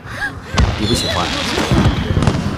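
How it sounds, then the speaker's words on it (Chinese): Fireworks burst in the distance, a few rapid pops and booms over a couple of seconds, mixed with background talk. "这烟花虽好，也是热闹。"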